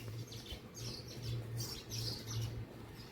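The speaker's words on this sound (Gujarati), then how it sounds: "તો પક્ષીઓ મસ્ત બોલે છે," Birds chirp and call repeatedly in a rainy outdoor setting, thin bright tweets scattered over a steady low hum, with no one speaking.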